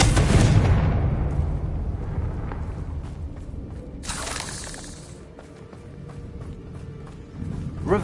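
Confringo blasting spell in the Hogwarts Legacy video game, a loud crashing explosion with a shattering burst at the start, a second sharp blast partway through, then fading rumble and debris.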